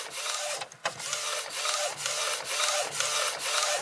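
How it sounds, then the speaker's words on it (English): A Procolored DTF printer runs a print job, its print head shuttling back and forth in a steady repeating rhythm of whirring, rubbing passes, close and continuous. "let this finish printing out"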